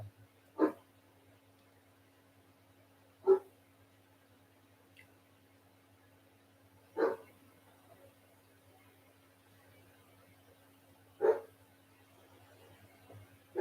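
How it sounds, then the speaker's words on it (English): Dogs barking in short, isolated bursts, five single barks spaced several seconds apart, moderately distant over a low steady hum. "When the windows got smashed, that's why the dogs do that barking."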